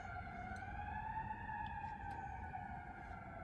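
A firefighter siren sounds at night, a faint distant wail with slowly rising and falling pitch carried over a low background rumble.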